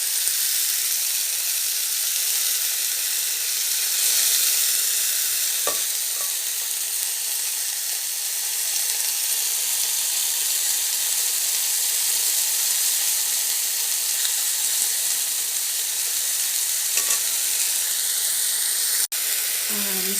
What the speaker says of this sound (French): Voilà, les steaks sont en train de cuire.